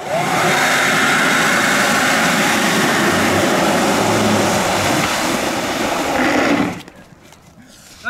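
Fan of a battery-powered electric rideable hovercraft running on a street, with a loud, steady broadband whir and rumble lasting several seconds before it cuts off abruptly into quiet.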